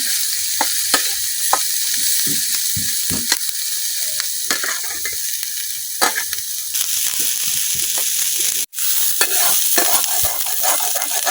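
Chilies, onion and garlic frying in a pan in a village kitchen, a steady close sizzle broken by stirring scrapes and clicks, with a brief dropout near the end and no talking.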